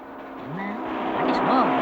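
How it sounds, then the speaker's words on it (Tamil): Large vehicle approaching on a road in a Tamil comedy film scene: an engine drone slowly grows louder, with rising and falling pitch sweeps. Voices are heard around it. "பெரிய வண்டியா வருது"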